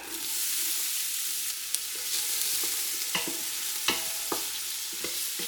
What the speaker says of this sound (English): Next, we're going to add 1 cup of chopped up white onions.